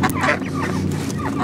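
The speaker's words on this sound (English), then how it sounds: "Look at those ducks, they're all trapped in this little thing." Ducks on a public lake in France give a loud burst of nasal quacks and honking calls, close by and repeating in quick succession.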